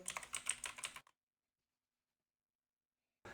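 Keys tapped on a computer keyboard while entering a password into a terminal, a quick run of close, clicky strokes lasting about a second, then silence before a short burst of sound resumes at the end.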